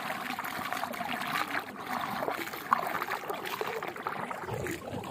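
Water flows along a village irrigation channel, a continuous close trickling and gurgling stream with a steady, slightly rough texture.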